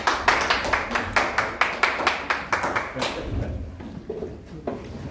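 A live audience claps at the opening of a first stage performance, a run of sharp, evenly spaced hand claps for about three seconds that then thin out into quieter scattered taps and room murmur.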